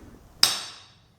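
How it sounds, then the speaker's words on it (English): A single sharp forging-hammer blow lands on hot metal, a loud close strike followed by a bright metallic ring that fades over about a second, with no voices. "lay down a good blow with your hammer"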